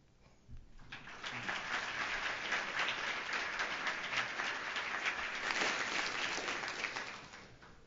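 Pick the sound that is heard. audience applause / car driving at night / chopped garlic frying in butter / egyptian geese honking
audience applause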